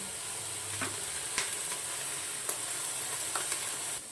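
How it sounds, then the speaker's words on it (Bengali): Cauliflower frying in a pan with turmeric and salt, a steady hiss of sizzling oil broken by a few sharp stirring clicks, close and alone. "এদিকে ফুলকপিগুলো আমি একটু ভেজে দিচ্ছি।"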